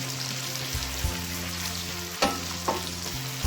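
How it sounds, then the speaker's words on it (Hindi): Sliced onions fry gently in hot oil in a pan, giving a steady close sizzle with occasional stirring clatters. No one speaks over it. "हमने प्याज डाल दिए हैं, हम प्याज हल्के हल्के फ्राई करेंगे।"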